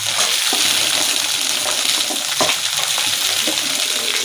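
Cowpeas (bobbarlu) fry lightly in a pan with a steady, close, broadband sizzle and crackle that runs unbroken throughout, with a few soft stirring scrapes and no talk.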